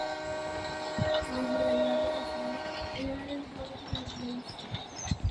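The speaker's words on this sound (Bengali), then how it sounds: "ট্রেন থেমে গেছে, ঝপ করে নামি" Train pulling to a stop at a station, with a drawn-out, wavering high brake squeal and clattering wheels and cars, loud and close, fading toward quiet clanks at the end.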